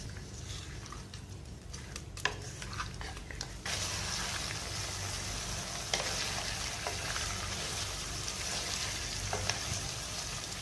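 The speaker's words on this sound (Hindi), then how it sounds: "अच्छी तरह आपने कच्चे मसाले के साथ कच्ची चिकन को गोल्डन करना है" Raw chicken and raw spices fry on a high flame, a steady loud sizzle with stirring scrapes and occasional clinks running throughout, growing fuller partway through.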